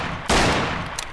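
Loud gunfire goes off in a Garry's Mod roleplay match, a sharp burst of shots followed by a quick second crack, close and alone with no talk over it.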